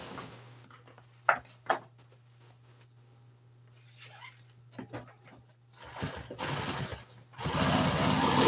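A sewing machine stitching a recovered seat cover for an old Toyota, running in short bursts with a steady hum beneath and a longer, louder run of stitching near the end, set amid quiet workshop handling noises.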